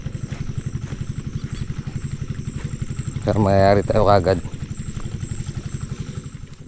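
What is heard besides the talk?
farm engine being started and running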